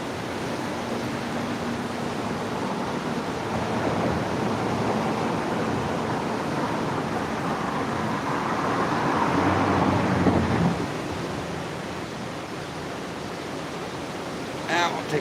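Whitewater River in southwest Ohio running in major flood, a steady loud broadband roar of rushing water that swells slightly toward the end, with light rain falling and no talk.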